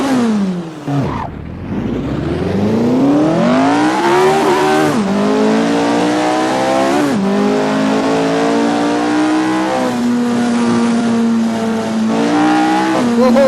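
Race car in a racing video game, engine revving and climbing through repeated gear shifts, loud and continuous with rising pitch sweeps and no talking.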